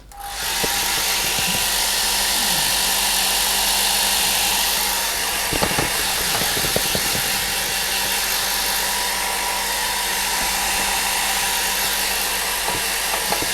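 A hair dryer blows steadily on a watercolour painting of a wooded stream, its loud continuous whir holding nearly unchanged throughout, with a few faint knocks and handling sounds partway through.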